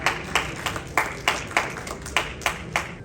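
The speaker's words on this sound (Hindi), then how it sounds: "जोरदार तालियों से स्वागत रविंद्र चौहान जी का।" At an award ceremony, one pair of hands claps in a steady, even beat, about ten sharp claps, moderately close and with no voices.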